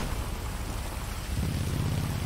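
Heavy rain in a video game pours steadily, a dense hiss of drops mixed with a low rumbling undertone that suggests distant thunder.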